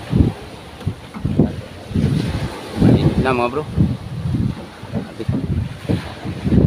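Gusty wind buffets the microphone over the wash of rough sea whipped up by the strong northeast monsoon wind, with someone talking throughout.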